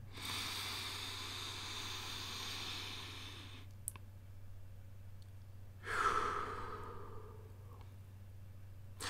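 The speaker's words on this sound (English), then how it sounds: "I want you to sit erect without lying down and begin to breathe deeply. In and out." Slow, deep breathing in and out, done seated upright during a guided breathing exercise: a long, soft airy exhale over several seconds, then a pause before a sharper, louder inhale, close and alone against a steady low hum.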